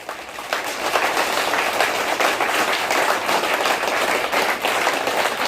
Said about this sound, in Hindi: एक एक हाथ अपने खुद के लिए तालियां बजाओ।